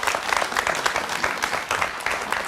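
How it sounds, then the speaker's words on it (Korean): An audience applauds to welcome a guest lecturer, the founder-chairman of a foundation, at a talk event: dense, steady clapping from many hands, fairly close and sustained throughout with no voices over it. "박수로 청해 주시기 바랍니다."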